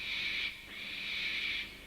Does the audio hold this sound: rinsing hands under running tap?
no